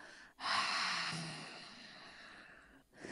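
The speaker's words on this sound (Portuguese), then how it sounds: "solte bem devagar pela boca, abrindo a glote e fazendo um som" A long, steady breath pushed out through the mouth, soft and airy, lasting a couple of seconds before a fresh intake.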